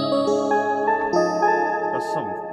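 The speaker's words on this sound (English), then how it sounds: "I grabbed a sound in Electra. It sounds something like this." A synth patch from the Electra plugin plays a short melodic run of sustained, bright tonal notes with a lingering echo tail, loud and clean with no voices.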